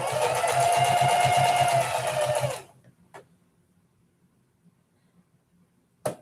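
A sewing machine runs in a fast, steady whirring burst for about two and a half seconds while stitching fabric belt loops, then stops, leaving quiet with a couple of small clicks.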